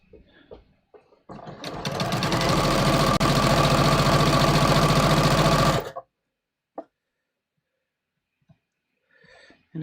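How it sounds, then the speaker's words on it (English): Close and loud, a sewing machine stitches down fabric pleats in one steady run of about four seconds, then stops, followed by faint handling clicks. "So after I finish sewing these down, I'll show you how I pleated the next section."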